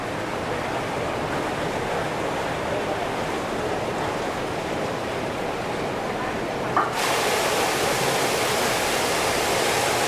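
Powerful water jet pouring into a heated mineral-water hydrotherapy pool aboard a cruise ship, a steady close rushing roar that suddenly brightens and intensifies about two-thirds through, continuing loud without talk.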